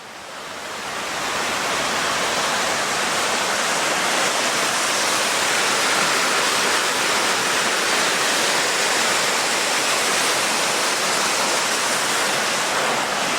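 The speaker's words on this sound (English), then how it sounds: "I think the waterfall's actually right up here." Lower Swatara Creek pours over a waterfall at Sweet Arrow Lake in Pine Grove, Pennsylvania, a steady broadband rush that swells up in the first seconds and then roars on evenly and loudly, with no voices over it.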